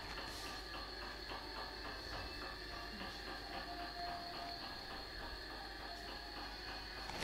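Drive motor of a Meade LX200 16-inch telescope running under computer control; a faint, steady mechanical whir with a fine repetitive ratcheting gear texture continues evenly throughout.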